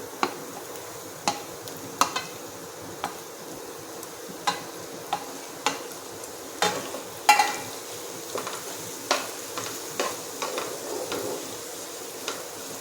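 Finely chopped capsicum, carrot and tomato frying in a pan for masala pasta, a soft continuous sizzle broken by regular sharp taps and scrapes of a spatula stirring the vegetables.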